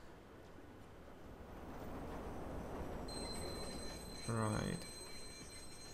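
A train rumbles past in the game Watch Dogs, a steady low rolling roar that builds, then thuds heavily, with a high wheel squeal over the top and a brief spoken word.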